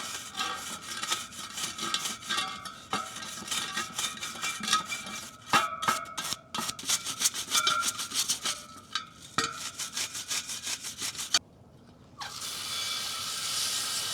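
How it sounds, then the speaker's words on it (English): A nylon brush scrubs anodization off a stock Surron electric dirt bike wheel, making dense rapid scratchy strokes in uneven bursts, close and fairly loud, with a short pause before a steady hiss of rinsing water at the end. "I'm gonna be using a nylon brush to scrub off the remaining"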